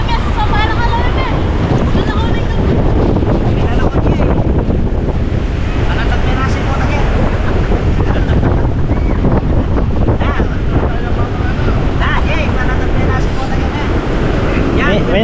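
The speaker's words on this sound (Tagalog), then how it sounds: "Mahangin lang talaga." Strong, steady wind roars and buffets the microphone at Casapsapan beach, with surf and waves beneath it, a constant loud blustery rush lasting throughout.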